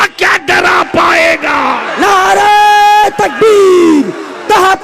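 A large crowd at a religious conference in India roars a loud call-and-response chant after a slogan, with voices swelling together in long sustained bursts and brief pauses between them.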